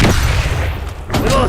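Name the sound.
grenade explosion in the video game F.L.A.G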